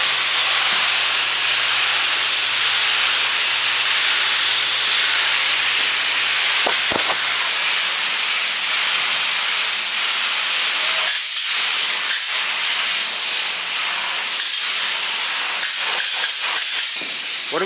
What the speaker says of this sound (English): We are doing spray foam insulation, barn building.